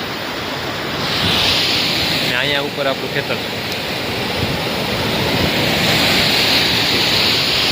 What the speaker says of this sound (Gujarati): અહીંયા એક મસ્ત ધોધ પડે છે